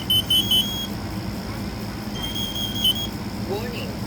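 A smoke alarm system under test gives short, high electronic beeps, a few quick pulses at the start and another brief burst midway, over a steady background hum.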